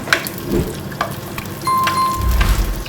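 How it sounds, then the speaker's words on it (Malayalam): Curry leaves drop into hot oil and sizzle, a close crackling hiss with small pops and a few clicks of a utensil, growing rougher and louder toward the end. "ഈ ചൂടായ എണ്ണയിലോട്ട് 2 കറിവേപ്പില ഇട്ട് കൊടുക്കാം."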